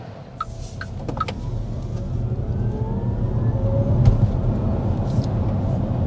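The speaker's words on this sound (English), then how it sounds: "there's a little acceleration for our first time behind the wheel" A Geely Galaxy E5 electric car accelerates on the road, a steady rising tire and road hum with a faint motor whine, a few light clicks early on.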